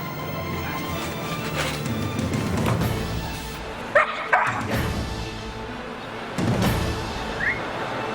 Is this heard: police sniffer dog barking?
yes